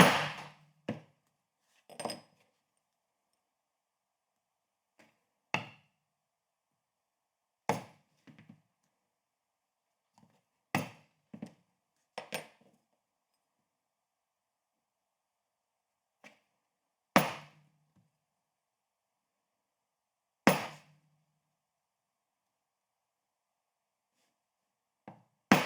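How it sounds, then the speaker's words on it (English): Sharp isolated taps strike prick markers into a leather coaster to mark stitch holes, a dozen or so irregular, close knocks separated by silent pauses. "as I am using prick markers, I don't need to punch them all the way through"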